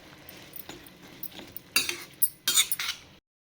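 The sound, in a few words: okra being stirred into masala in a pan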